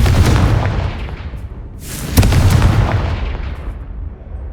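Confringo fire spell exploding in Hogwarts Legacy, two heavy booming blasts a couple of seconds apart, each rumbling and slowly fading, loud and close with no talk.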